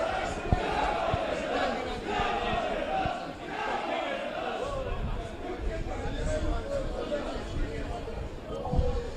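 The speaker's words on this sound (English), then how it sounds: "Crowd finding a bit more voice here late in the first half." Football stadium crowd at a South Melbourne versus Pascoe Vale NPL Victoria match, a steady roar of distant voices and chatter swelling slightly late in the first half, with no clear peaks of cheering.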